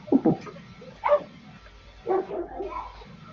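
A dog barks in three separate bursts, fairly close and loud, during an online evening class held from home, with no speech over the barks.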